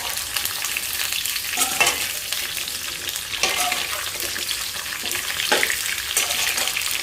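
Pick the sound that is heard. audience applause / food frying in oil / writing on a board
food frying in oil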